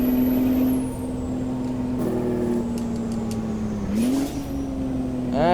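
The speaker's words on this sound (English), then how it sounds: "This truck is actually quite fun to rev really hard" A truck engine in American Truck Simulator revs hard, a steady drone with rising and falling pitch, a brief hiss partway through and a sharp rev climbing at the end, loud and continuous.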